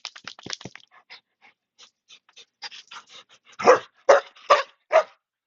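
A dog barks loudly at neighboring dogs in several sharp, close bursts, with softer yips and whimpers leading into four strong barks near the end.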